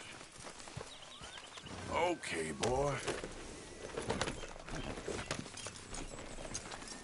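Horse hooves in Red Dead Redemption 2, soft scattered clopping steps under ambient outdoor noise, with a horse's short whinny near the start and someone speaking briefly.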